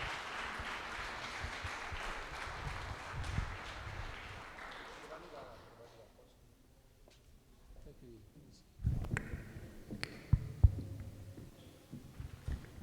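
Church congregation at a family worship service applauding in a long wash of clapping that fades to near quiet, then a fresh burst of noise and thumps follows.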